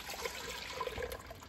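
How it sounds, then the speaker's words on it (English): Skimmed raw milk pours from a container into an Instant Pot, a quiet, close liquid gurgle and trickle lasting a moment. "I'm just gonna pour it right in"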